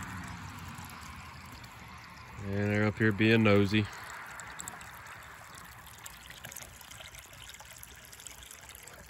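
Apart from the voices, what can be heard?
water filling a trough for steers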